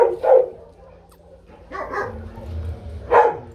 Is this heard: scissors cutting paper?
no